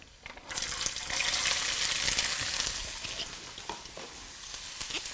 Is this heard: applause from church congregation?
no